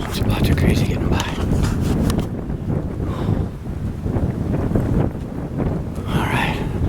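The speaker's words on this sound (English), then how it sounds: "pretty windy" Strong wind blows outdoors in wooded backcountry, buffeting the microphone with loud, rumbling gusts that swell and ease. Someone talks intermittently under the roar.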